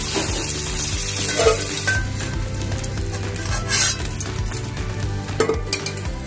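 Bitter gourd pieces frying in hot oil until reddish-brown for shukto, a continuous close sizzle with crackles, spatters and occasional clinks of a spatula against the pan, no talking.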